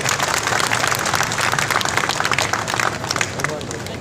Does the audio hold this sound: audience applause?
yes